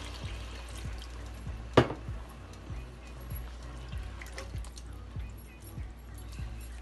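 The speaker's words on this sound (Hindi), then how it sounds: "दो कप पानी डालेंगे" Water is poured into a cooking pot of meat for a handi curry, a brief splash and gush followed by low sizzling and bubbling, with faint ticking in the background.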